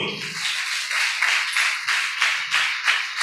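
A congregation at a Sunday church sermon claps hands together in a steady, rhythmic beat, the claps close and fairly loud with no talk.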